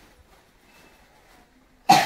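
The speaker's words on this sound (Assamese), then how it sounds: "কাহ হৈ গৈছেগে দেই" A single sharp cough breaks out at the very end after near silence, loud and close, with no talk around it.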